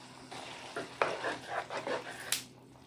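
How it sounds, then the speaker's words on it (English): Diced tomatoes and green chilies get stirred in a pot, a handful of wet scraping strokes with a soft sizzle and one sharp clink of a utensil near the end, quiet and close with no voices. "Mix that around."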